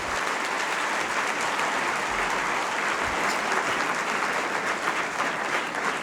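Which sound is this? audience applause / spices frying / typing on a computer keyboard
audience applause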